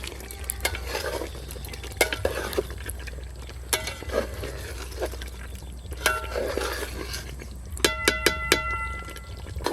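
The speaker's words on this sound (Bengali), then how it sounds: "চিকেনগুলো কিন্তু এবার ঘন ঘন নাড়তে হবে, তা নাহলে নিচে লেগে যাওয়ার ভয় থাকতে পারে।" Chicken for a Diwali kacchi biryani being stirred often in a pot as the gravy thickens: repeated scraping clinks of a spoon against the metal over a low sizzle, with a quick run of sharp clatters near the end.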